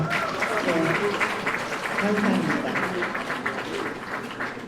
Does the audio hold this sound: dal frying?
no